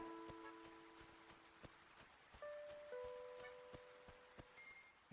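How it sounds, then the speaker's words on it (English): Rain and stormy weather in the game Animal Crossing: Wild World, a soft steady patter of raindrops with sharp drip ticks scattered throughout and faint tonal notes drifting over it. "walk around in the rain"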